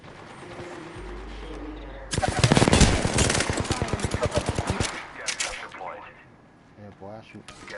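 Rapid automatic gunfire from an Apex Legends match erupts in a loud sustained burst, then continues in shorter rattling volleys that taper off, while a player talks over the action.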